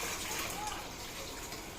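Water runs steadily into a drain while fresh fish is washed, a continuous broadband gush and splash with no pauses, close by and moderately loud.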